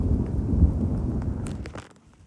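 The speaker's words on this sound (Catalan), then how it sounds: "Està tronant." Low rumbling thunder rolls during a storm in Sweden, a deep heavy roll that fades away after about two seconds, with faint rustling over it.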